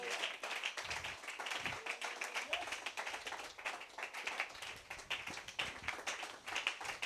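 A church congregation claps steadily and rhythmically throughout, a dense and fairly loud wash of hand claps filling the room.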